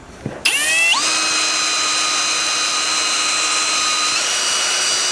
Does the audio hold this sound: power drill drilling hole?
yes